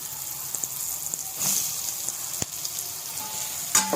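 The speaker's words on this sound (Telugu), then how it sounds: "ఫ్రై అవ్వనిద్దాం కొంచెం సేపు." Soya chunks fry in a pan with ginger-garlic paste and garam masala, giving a soft, steady sizzle close by with a few faint stirring knocks and scrapes, quiet overall and without talk.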